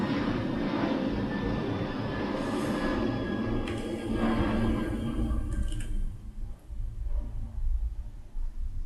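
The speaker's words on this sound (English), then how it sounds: "That's a really loud plane." A loud airplane roars overhead in a broad, steady wash of noise that holds for several seconds, then thins out and fades toward the end.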